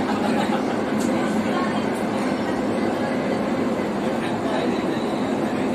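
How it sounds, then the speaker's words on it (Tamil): Riding inside a moving Dubai Metro train, a continuous loud rolling roar with faint rail clatter and occasional light squeals runs steadily throughout. "இப்போ நான் ட்ரெயினில் போயிட்டுருக்கேன்."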